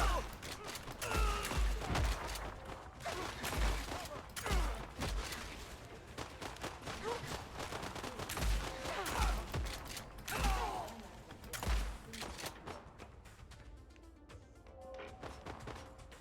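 Double-barrel shotgun blasts in the Phantom Fury video game, a dozen or so sharp booming shots at irregular intervals with mechanical clatter between them, then fading into quieter ambience at the end.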